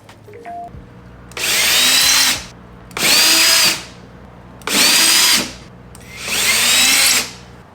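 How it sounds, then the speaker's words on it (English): A power drill whirs into a wall in four separate bursts, each lasting about a second, loud and close, with short pauses between. "let's mark these spots and then we'll start drilling the wall."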